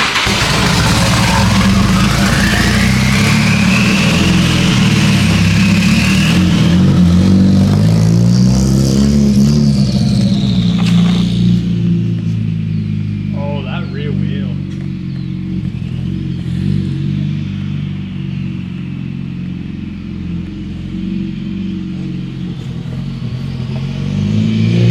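A car engine cold-starts and runs at a loud, rough idle. It revs up and down in rising and falling sweeps, then settles back, close and continuous with no talk.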